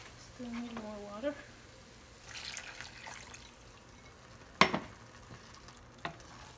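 Cornmeal and hot water stirred into stiff ugali fufu in a pot, with scraping, sloshing strokes and a few sharp knocks of the spoon against the pot, plus a brief voice near the start.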